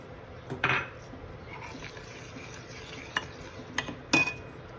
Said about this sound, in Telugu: ఇలాగా కలుపుకుంటూ ఉండాలి.